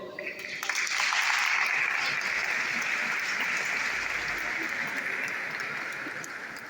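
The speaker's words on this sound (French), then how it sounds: "je vous demande d'applaudir très fort les lauréats en mécanique auto" Sustained crowd applause at a vocational school graduation ceremony for the auto mechanics graduates, swelling in after a brief pause and holding strong before easing slightly, with faint voices mixed in.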